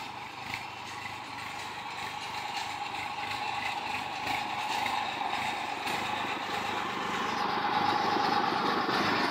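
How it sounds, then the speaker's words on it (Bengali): A power tiller tractor engine runs steadily at a road construction site in Barisal, a continuous mechanical drone with rattling, ratchet-like clatter that grows slightly louder over time, with no voices. "অলরেডি দেখতে পাচ্ছেন এই যে সেই ট্রাক্টর, পাওয়ার টিলার যেটাকে বলেন।"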